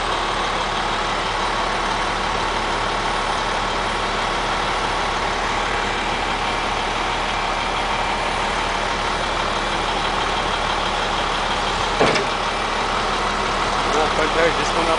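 A truck's heavy engine runs steadily while stuck in an icy ditch on a rainy February day in Winnipeg, a constant low rumble filling the clip before a brief surge of revving near the end.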